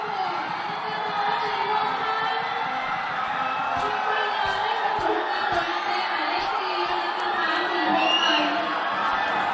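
Laos supporters cheer and sing in a stadium after their team scores against Cambodia in a U-16 football qualifier, a loud, steady wall of crowd voices with shouts and whoops rising over the chanting.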